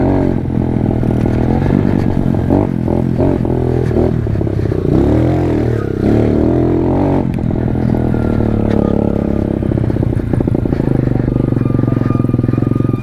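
A pit bike engine drones and revs steadily while riding through a wet dirt rut, loud and close throughout with rattling chassis clatter over the continuous motor, no talk.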